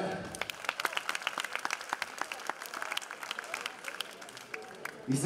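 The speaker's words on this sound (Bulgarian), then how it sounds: "Аплодисмент!" Audience at a women's professional boxing event in Veliko Tarnovo applauds steadily, a dense patter of many hands clapping at moderate distance, with crowd murmur and a brief voice near the end.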